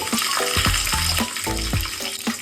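Mustard seeds, cumin and green chillies hit hot oil in a pan for aloo fry, producing a loud steady sizzle with rhythmic crackling bursts.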